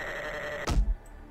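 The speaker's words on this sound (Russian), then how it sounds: "Так, овечка, стой." Sheep bleating in the video game 7 Days To Die: one short, close bleat in the middle of the clip over a steady game background hum, with no talking.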